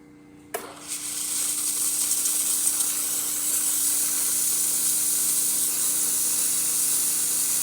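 A Breville espresso machine's steam wand bursts on and settles into a steady, loud hiss as it steams milk, a continuous airy roar with faint bubbling that runs unbroken to the end.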